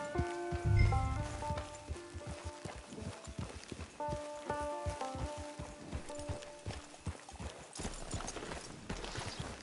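Steady clip-clop of horse hooves in a video game, trotting at an even pace under a tonal musical score, fairly quiet and with no voices.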